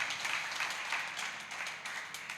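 A worshipping congregation at a church service claps together in a sustained, fairly quiet patter of many hands, rhythmic and even, with no talk on top.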